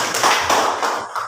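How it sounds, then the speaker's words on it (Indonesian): A classroom of students applauds in a short, loud burst of close, dense clapping lasting just over a second. "Tepuk tangan untuk Rambuina."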